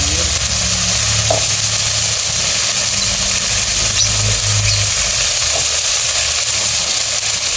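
Squash and string beans fry in a pan with onion, giving a loud, steady sizzle with crackling and occasional stirring scrapes throughout.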